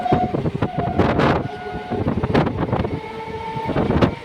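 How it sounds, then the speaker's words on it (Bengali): A train pulls away from Belgharia station on the Sealdah main line. Loud, close rumbling and rattling wagons carry through, with a sustained horn-like tone running underneath and no voices. "বেলঘড়িয়া থেকে ট্রেন পরবর্তী স্টেশনের দিকে এগিয়ে চলেছে।"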